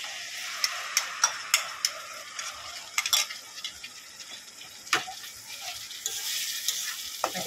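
Tomato paste frying with fried onions and Kashmiri chili powder in a pan, giving a soft steady sizzle broken by scattered clicks and scrapes of stirring, close by and with no talk.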